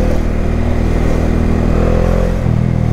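Bajaj Dominar motorcycle riding through heavy traffic in Malaysia, its steady engine drone close and loud throughout, shifting pitch near the end as it accelerates, no voices heard.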